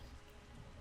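Rain in the video game Batman: Arkham Asylum, a dense, even wash of falling water with steady hiss and patter throughout, faint and without talk.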